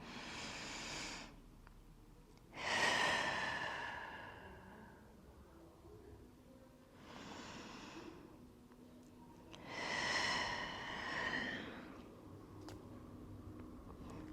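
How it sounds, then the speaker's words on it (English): Slow deep breathing during a Pilates class for spine health, with long airy inhales and exhales spaced several seconds apart, soft and close, with quiet pauses between breaths and no talking. "2 more deep breaths."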